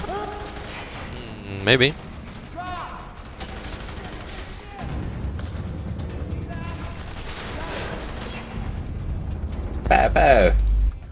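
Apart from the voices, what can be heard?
submachine gun firing in video game F.E.A.R. 3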